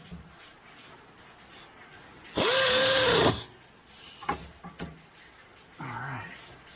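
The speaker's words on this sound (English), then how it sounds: "I wasn't trying to hammer down on it with that air wrench" An air ratchet spins a bolt during a Toyota Highlander steering shaft replacement, one loud close burst of about a second with a whirring whine, followed by short clicks, clanks and a brief softer whir.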